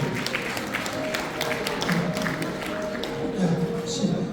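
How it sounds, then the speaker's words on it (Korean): Audience applause at a Korean hometown association's humanities lecture, greeting a former Seoul mayor who recovered from a broken femur; steady, moderately loud clapping from a seated crowd with some murmuring voices underneath. "여러분 다 같이 박수 한번 부탁드립니다."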